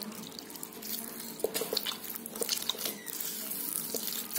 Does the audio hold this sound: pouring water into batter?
yes